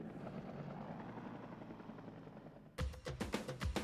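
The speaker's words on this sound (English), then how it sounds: "The pursuit was closely followed by at least 8 news and 2 police helicopters" Several news and police helicopters circling over a police car chase make a steady, droning rotor roar for about three seconds, then it cuts abruptly to sharper, louder bursts.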